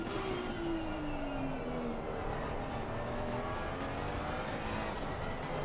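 A race car in a sim racing game at Misano gives a continuous, broad engine roar with a falling tone, steady and fairly quiet throughout.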